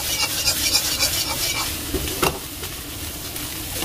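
Soy sauce sizzles as fried rice is stir-fried in a wok, a steady close crackle with spatula scraping and tossing through the rice, no voices.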